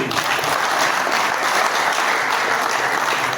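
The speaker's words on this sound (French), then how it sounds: "applaudissez-le" An audience applauds steadily at a ceremony installing an association's national steering committee, a dense, even wash of clapping held throughout without voices.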